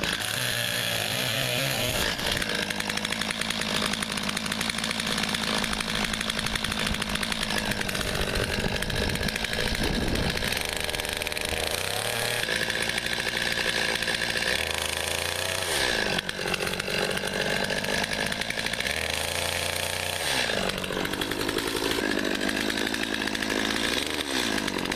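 Stihl MS 250 chainsaw cutting firewood, its engine roaring close and loud without a break. Revs dip and climb repeatedly as the chain bites into logs and then frees up between cuts.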